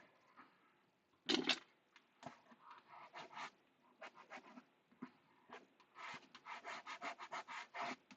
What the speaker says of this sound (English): Fold that in and then just rub there.